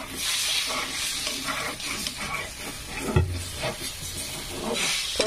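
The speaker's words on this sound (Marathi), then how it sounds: "छान पैकी असं परतून घ्यायचं आहे आता." Egg bhurji frying in a pan sizzles and hisses steadily while a spatula stirs and scrapes it in repeated strokes, with one sharper knock against the pan partway through.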